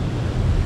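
Ocean surf surges near Aruba's Natural Bridge, a steady rough wash of breaking waves close by, mixed with gusting wind buffeting the microphone, with no voices.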